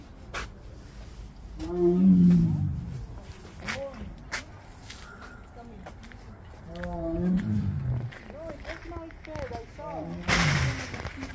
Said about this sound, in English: Tiger is inside, it's roaring.